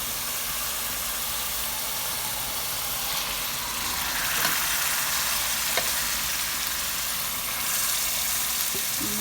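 Marinated mutton and tomatoes frying together in a pot, making a dense, continuous sizzle and hiss with a few faint stirring knocks, close and steady, with no talk.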